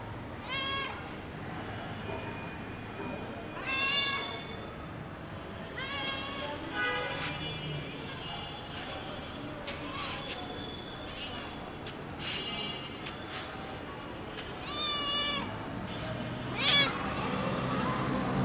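A pet cat meows repeatedly in short, clear cries spread throughout, close by, with a person talking in between and over the calls.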